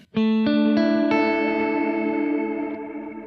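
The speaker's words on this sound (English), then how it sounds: "trying to add some chorus to get some more modulation" An electric guitar runs through a Kemper Profiler with the chorus effect at maximum while rebuilding a Keeley Halo tone. A few plucked notes ring out in quick succession and then sustain with a lush, wavering shimmer, played alone.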